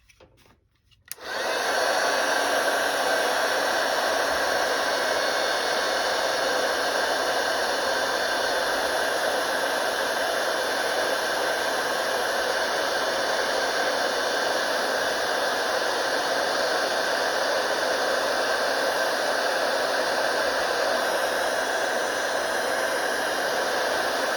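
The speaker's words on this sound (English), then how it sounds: "this is the part where you may want to lower your volume while I heat emboss" A heat embossing tool blows hot air onto a stamped card, producing a loud, steady whooshing roar that starts abruptly after a brief silence and runs unbroken, with no talking.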